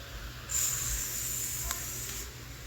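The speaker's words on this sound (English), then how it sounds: "You hear the sizzle?" A steady bright sizzle of food frying in a pan starts abruptly, holds at moderate loudness for under two seconds, then fades away.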